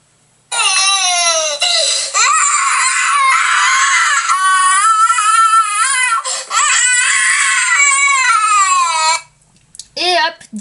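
A voice imitates a little crocodile screaming and crying during a children's picture-book reading, with loud, sustained wailing and sobbing for about nine seconds, then brief softer sounds at the end.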